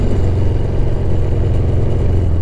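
A 1975 Yamaha XS650 motorcycle engine accelerating, a steady, loud, low mechanical drone with a pulsing exhaust throb that holds through the whole stretch.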